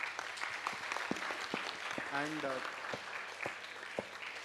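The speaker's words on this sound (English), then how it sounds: "Everyone is clapping." Audience clapping at a student gathering, scattered sharp claps spread across a few seconds, faint and low-level, with a brief voice in between.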